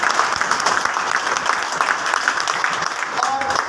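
Applause from a motivational seminar audience, a steady dense wash of clapping that holds evenly throughout, with a faint voice or tone briefly surfacing near the end.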